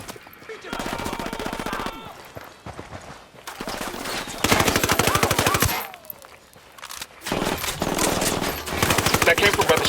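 Sustained automatic gunfire in the video game Ghost Recon Wildlands, loud bursts of rapid shots rattling on and off across the whole stretch with brief pauses between volleys.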